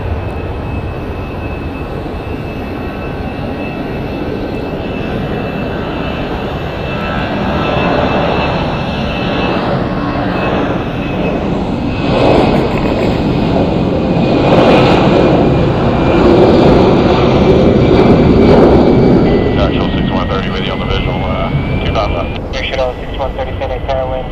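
A Southwest jet taking off from runway 25 right at Phoenix Sky Harbor, a steady broad engine roar that swells and builds through the middle, with radio voices talking over it.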